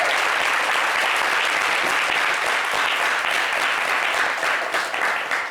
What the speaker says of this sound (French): Applaudissez pour vous, s'il vous plaît.